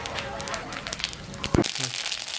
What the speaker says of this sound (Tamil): நம்ம இதுக்குள்ள எண்ணெயை விடுவோம். கடுகு போடுவோம்.